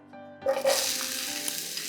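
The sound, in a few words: frying pan sizzling after being sprayed with water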